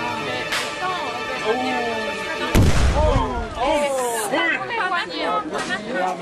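A single sharp gunshot, a warning shot fired to scare off baboons, cracks out loud and close in the middle of ongoing chatter from several people.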